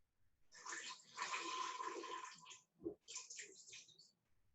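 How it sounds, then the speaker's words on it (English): Lemon juice is poured into a lemonade mix, a soft trickling and splashing of liquid in two short pours separated by a brief gap, quiet and close. "Would you like to pour the rest of the lemon juice in?"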